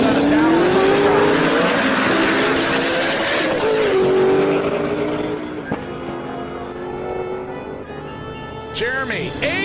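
Drag race cars, an LS-swapped Nissan and a stick-shift Cobra, launching at a drag strip: a loud, rising engine roar sweeps upward and fades, then another car bursts in near the end, with an announcer talking over it.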